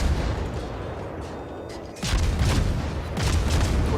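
Heavy naval guns boom in a warship battle game, aboard the destroyer Khabarovsk. A rumbling background gives way to a loud salvo midway and another burst near the end.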